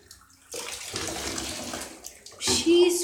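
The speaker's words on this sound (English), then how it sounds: "she keeps on jumping up and splashing me" Water sloshes and splashes in bursts while a puppy is washed in a bath, close and moderately loud, with a brief high whine near the end.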